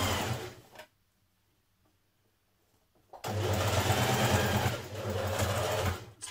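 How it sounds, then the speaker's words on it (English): Sewing machine stitching around the pocket pieces of a Simplicity 8418 bomber jacket with a 1.5 cm seam allowance, heard as a short loud burst, then a pause of near silence, then a longer steady run of close, loud whirring stitching. "we're going to stitch around our pocket pieces"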